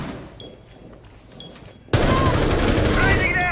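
Video game gunfire erupts suddenly after a quiet stretch: loud, sustained rapid bursts like automatic weapons filling the rest of the moment, with a player's voice faintly under it.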